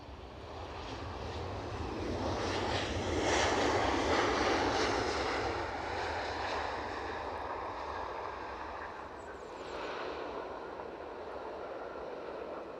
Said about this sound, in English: we have an aircraft on longish finals in EasyJet from London